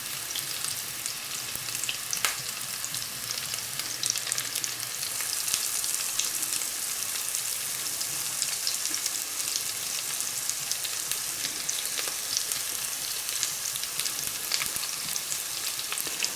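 Italian meatballs frying in a pan give a steady, dense sizzle and crackle that carries on without a break, close up and alone with no voices.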